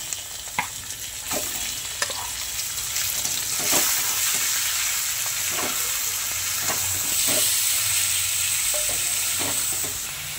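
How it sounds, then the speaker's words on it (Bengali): Chicken fries in hot oil with chopped onion and green chilli in a kadai for momo filling. A steady, close, loud sizzle runs throughout, with scraping stirs of a spatula at intervals. "তো আমি চিকেনটা এবার দিয়ে দিব।"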